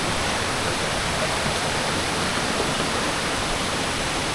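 A hillside stream of water pours into a newly built well, making a steady, dense rushing roar that stays even throughout without any voices.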